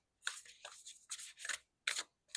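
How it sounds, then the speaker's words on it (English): A tarot card deck is overhand shuffled close by in several quick papery bursts separated by brief pauses, soft and dry with no talk. "If you like doing overhand shuffle like me,"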